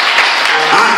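A worship congregation claps together in praise of the Lord: a dense, steady wash of hand claps held at an even, fairly loud level through a short burst.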